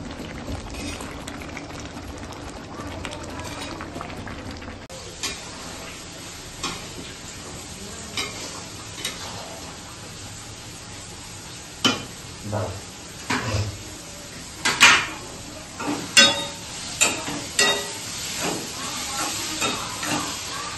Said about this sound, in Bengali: আজকে এই ফার্স্ট টাইম কড়াইতে দিয়ে কষানো হচ্ছে